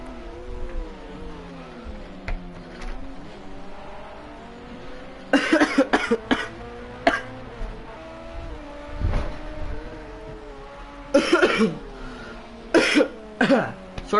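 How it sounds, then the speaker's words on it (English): Someone with a cold coughs several times in short harsh bursts, close to the microphone, over the steady drone of a race car engine in an LMP2 race at Monza. "Sorry if I cough a lot today, guys. I've got a cold."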